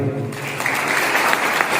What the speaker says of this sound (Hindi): भाई के लिए तालियां